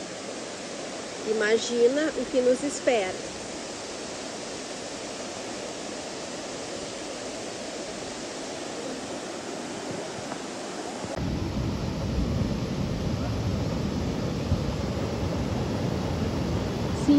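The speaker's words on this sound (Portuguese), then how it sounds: "estamos a recém na primeira cachoeira" A waterfall on a park trail in Bonito, Brazil, roars as a steady broadband rush that grows heavier partway through, with a person speaking briefly over it near the start.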